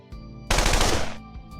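A loud burst of rapid automatic gunfire erupts, lasting under a second, with a low hum before and after.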